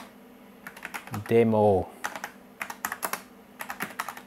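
Typing on a Tandy 2000 computer keyboard, quick irregular bursts of close keystrokes with a short spoken word partway through.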